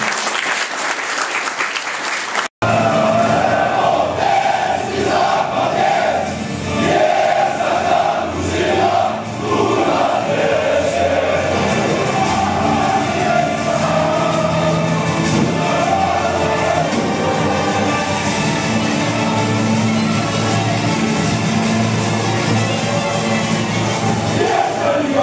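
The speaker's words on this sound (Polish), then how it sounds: "Bardzo wielkie brawa." Sustained, loud audience applause fills a sports gala hall in Mielec as the FKS Stal Mielec football club is honoured for promotion to the first league, with some crowd noise mixed in throughout after a brief quieter start.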